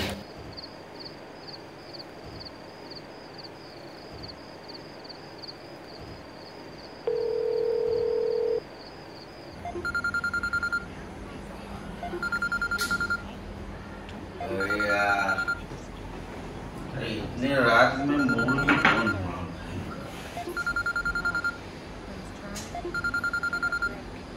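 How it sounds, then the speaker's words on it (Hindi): A dial tone hums, then a series of keypad tones beep, followed by repeated ringback tones at steady intervals with some faint background noise. "मंगेश को फोन करता हूं।"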